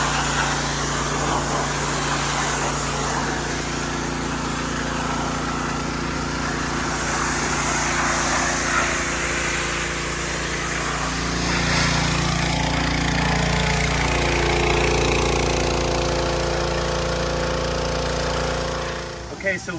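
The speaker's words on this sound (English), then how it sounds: "And then power wash over the top where you've scrubbed." Pressure washer spraying an outdoor bronze sculpture after scrubbing with a nylon brush, a loud, steady motor drone and water hiss running throughout, close up, with the pitch shifting partway through.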